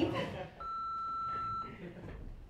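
A single steady voicemail beep lasting about a second, clear and close, preceded by a voice and followed by a soft voice afterward.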